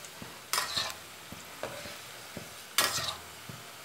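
Paneer and potatoes fry in oil as a spoon turns them, giving bursts of loud sizzling and scraping between quieter pauses, close and with no talk.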